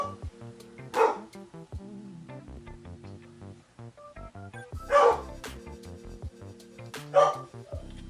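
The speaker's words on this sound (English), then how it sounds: "You hear my dogs in the background." Several dogs bark in short bursts at moments behind a steady musical tone, the barks loud and sharp against a quiet home setting.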